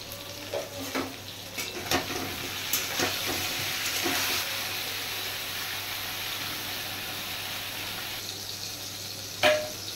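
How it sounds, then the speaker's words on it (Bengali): Eggplant slices seasoned with salt and turmeric fry in a pan, a steady soft sizzle with occasional stirring clatters and utensil knocks, plus a brief sharper clink near the end. "পরিমাণ মতো নুন আর হলুদ দিয়ে বেগুনটা ভেজে নিই।"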